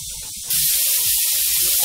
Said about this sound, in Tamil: வெங்காயம் நல்லா வதங்கட்டும், இப்போ தேங்காயும் போட்டுக்கலாம்.